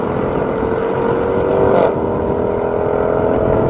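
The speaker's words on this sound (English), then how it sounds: "The sound of that when it shifts up." A high-performance car, either an AMG A45 S or a Jaguar Project 8, drones loudly at full throttle during a drag race, with a brief dip and change in engine note midway as it shifts up.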